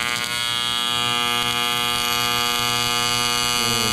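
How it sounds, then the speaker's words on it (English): Steady, loud electrical buzz of a TIG welder arc during an aluminum fusion weld, held continuously throughout with a rich harmonic drone, no talking. "Let's do a fusion weld."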